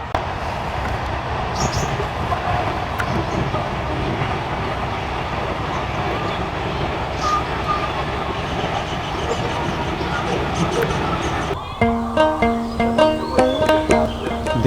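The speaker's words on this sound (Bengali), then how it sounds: "কত সুন্দর লাগে যখন ট্রেন যায়।" A train runs past a village house with a loud, steady rumble that shifts near the end into a rhythmic clickety-clack of wheels over rail joints. Faint insect chirping sits underneath.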